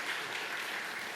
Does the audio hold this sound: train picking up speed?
no